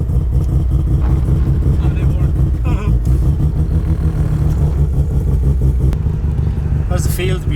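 A Datsun Sunny truck on its first drive out on the road, a loud constant engine drone and rattle from inside the cab, with people talking over it.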